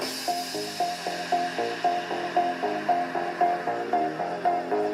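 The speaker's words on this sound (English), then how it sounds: "Speaker test of the Razer Blade 18 versus the Alienware M18." Music played through the built-in speakers of a Razer Blade 18 gaming laptop at 50% volume, a steady rhythmic pulsing pattern with repeating notes, heard fairly quietly and without talking.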